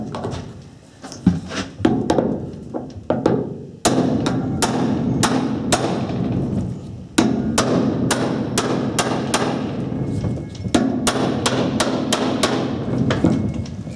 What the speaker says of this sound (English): you've got the whatever 100 kilo impact from a small hammer trying to undo it